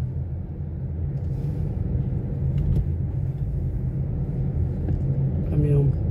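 Road traffic on the Rodovia Ayrton Senna highway near São Paulo, congested by a broken-down truck: a loud, continuous engine rumble of passing vehicles close by, with a brief hiss like an air brake near the end.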